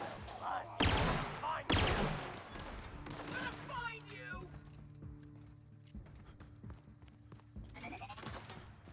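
Gunfire from a powerful gun in a sci-fi role-playing game, several sharp loud bursts in quick succession, followed by clattering game effects and a voice talking over them.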